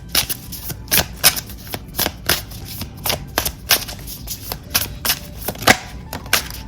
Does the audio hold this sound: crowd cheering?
no